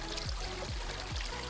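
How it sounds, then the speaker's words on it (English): A waterfall in Costa Rica pours and sprays as one dense, constant rush of water, close and even throughout, with no voices. "The platforms along the trail afforded us the luxury of viewing the waterfalls from above, below, and center while being misted by its spray."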